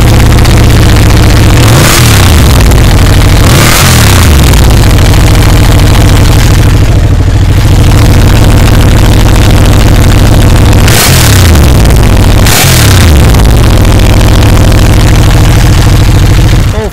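A Ducati 1199 Panigale motorcycle engine idles with a loud, close rumble, broken by several sharp throttle blips that rise and fall quickly before it settles back to a steady idle.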